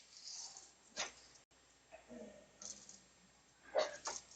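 Dogs in a photography studio give a few scattered, fairly faint barks and yelps, spaced apart over low room noise.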